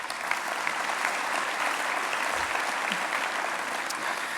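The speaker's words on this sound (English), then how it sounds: "give yourselves a round of applause first and foremost" Steady, dense applause from a large audience at a Boys & Girls Clubs alumni hall of fame ceremony, sustained and even throughout with no break.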